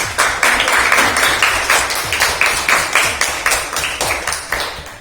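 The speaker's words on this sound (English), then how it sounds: "Can we have a round of applause for all of you?" Audience at a school quiz on Sister Nivedita's life claps for the competing teams: a steady, rhythmic run of many hands clapping together in quick, even beats, moderately close and fading slightly toward the end.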